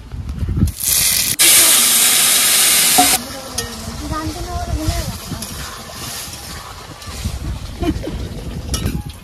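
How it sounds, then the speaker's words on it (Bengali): Radhuni seeds tempering in hot oil, a loud burst of hissing sizzle that flares for about two seconds, then settles into a softer crackle under a person talking. "আগে ফোড়ন দেবো, তার জন্য দেবো রাঁধুনি ফোড়ন।"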